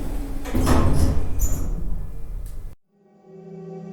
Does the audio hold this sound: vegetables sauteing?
no